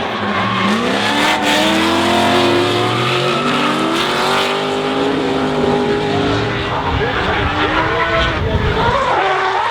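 Drift cars race at Hampton Downs, including a Red Bull Mazda RX-7 and an S13, with loud, continuous engines howling and swooping in pitch, overlapping revs and tyre noise close by.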